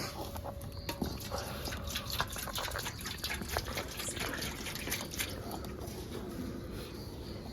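Radish water trickles into paratha dough in a kitchen, a faint, uneven run of drips and wet splashes with soft squelching underneath.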